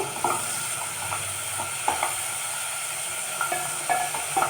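Onion, garlic and ginger frying in a pan for a hotel-style chicken gravy, a loud steady hissing sizzle with light, irregular stirring clicks scattered throughout.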